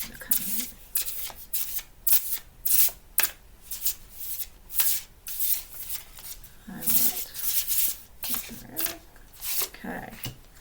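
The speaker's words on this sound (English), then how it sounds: "And then I'm going to shuffle my deck." A Tarot of Traditions card deck is shuffled by hand, with repeated brisk riffling and sliding bursts in an irregular rhythm, close and fairly quiet, while a person talks softly in between.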